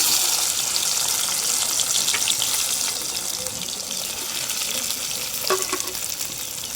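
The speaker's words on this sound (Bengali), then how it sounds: "আমলকিটা সুন্দর করে একটু ভেজে নেবো" Amla pieces fry in mustard oil seasoned with asafoetida, giving a steady close sizzle and crackle with occasional soft stirring taps and no talking.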